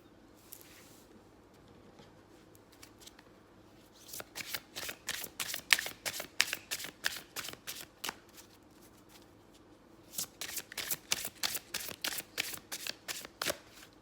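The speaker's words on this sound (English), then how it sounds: "Good heart shuffle." Tarot cards are shuffled in two quick bursts of rapid riffling flaps, close by, with a quiet pause before and between them.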